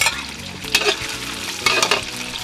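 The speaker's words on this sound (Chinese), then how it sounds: "咸蛋先爆香。" Salted egg is stir-fried in a wok for a Hakka dish with green bamboo shoots: a steady, close sizzle with scraping stir strokes, and a couple of louder bursts as the egg is tossed.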